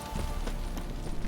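Roach, a horse in The Witcher 3, trots with steady rhythmic hoof clops over a continuous game ambience, spread through a short stretch at moderate level.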